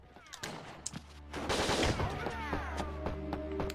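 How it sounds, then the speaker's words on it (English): Rapid gunfire in the stealth action video game Winback: Covert Operations, several short bursts building into a sustained loud volley of shots over continuous game sound. "We just gotta, you know, try to avoid the gunfire."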